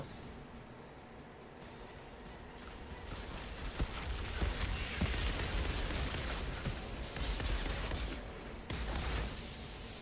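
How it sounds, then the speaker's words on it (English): Dense, continuous barrage of gunfire and booming explosions in the video game Outriders, steady and loud throughout with sharp bursts of shots layered over a rumbling low end. "All those explosions."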